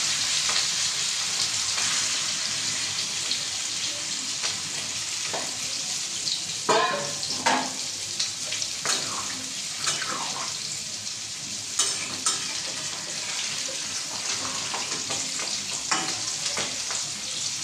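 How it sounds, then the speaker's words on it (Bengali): Thin fish fries in hot oil with a dense, continuous sizzle that stays loud throughout, broken now and then by clinks and scrapes of stirring. "তেল গরম হয়ে গেছে, আর আমি পাতলা মাছটা ছেড়ে দেবো।"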